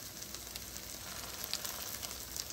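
Plant-based salmon and crab patties frying in a pan give a steady, soft sizzle with faint crackling pops, continuous and fairly quiet with no talking.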